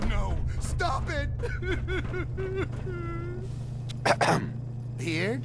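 A cat meows repeatedly in Fallout 4, a string of close, rising and falling calls over a steady low hum, while a person talks and chuckles in between.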